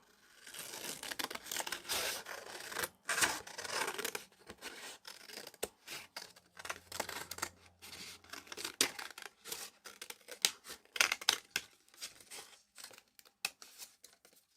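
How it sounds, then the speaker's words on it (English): Scissors snip through a sheet of paper to cut out a random stencil shape, with crisp rhythmic cuts and crinkling paper handling, close up and fairly quiet with no talking. "And let's make a stencil. I'm just going to cut some kind of random shape."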